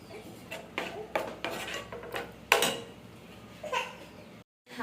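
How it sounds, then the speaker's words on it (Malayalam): A utensil clanks and scrapes against a pan while tomato sauce is stirred into a cooked mix, several sharp knocks and scraping strokes in an irregular rhythm. "എന്നിട്ടൊന്ന് ഇളക്കിയിട്ട് അവിടെ വയ്ക്കാം."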